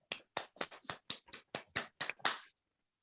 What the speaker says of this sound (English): Huge round of applause to Joe.